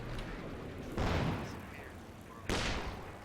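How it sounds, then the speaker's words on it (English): High explosive artillery barrage in a real-time strategy video game, two quiet booming impacts about a second and a half apart over a low battle background, distant and faint. "looks like Symbiosis is using the high explosive barrage here in this general vicinity"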